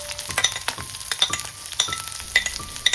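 Chopped onion and green chilli sautéing in a pan for a Kerala-style sweet potato curry made without coconut, with steady sizzling broken by frequent clinks and scrapes of a stirring spoon, close and fairly loud.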